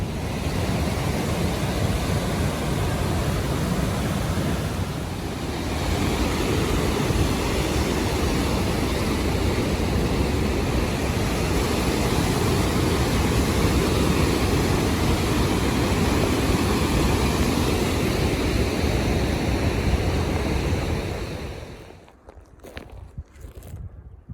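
Water rushes loudly and steadily along a mountain trail on the Pacific Crest Trail near Pinchot Pass and Glen Pass, a continuous roar mixed with wind noise that cuts out abruptly near the end.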